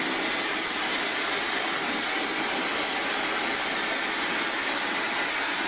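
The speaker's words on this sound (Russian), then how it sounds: "можете взять в ручки фен и высушить вашу намотанную пряжу под мощной струей воздуха" A hair dryer blows continuously at high power drying wound yarn, a loud, even whooshing hiss with no pauses or voices.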